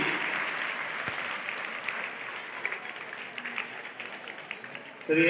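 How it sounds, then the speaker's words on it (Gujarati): An audience at a high school farewell ceremony for a retiring teacher applauds in a steady, moderately distant wash of clapping that fades slightly before a sudden louder burst at the end. "જોરદાર તાળીઓ પાડીશું આપણે આપણા ભૂતપૂર્વ ગુરુજી"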